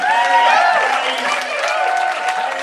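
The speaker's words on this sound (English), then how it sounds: "give everybody a good round of applause" An audience applauds presenters at a Pecha Kucha event at H.U.P.E 2011, with dense, close clapping mixed with cheering and voices in the room.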